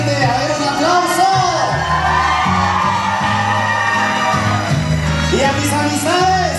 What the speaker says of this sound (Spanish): A mi familia presente, a ver, un aplauso.